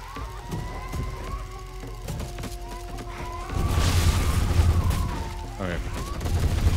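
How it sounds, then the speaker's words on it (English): A dense burst of explosions and gunfire in the video game Scathe: rapid crackling blasts and booms pile up near, swelling louder midway over a steady background hum. "60 things just exploded by me"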